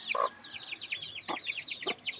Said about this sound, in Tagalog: ito yung sisiw ng isa nating manok